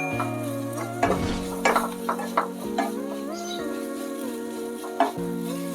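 Spice paste for egg curry fries in a pan while a spoon stirs it, giving soft sizzling and a few scraping strokes over a steady tonal background hum.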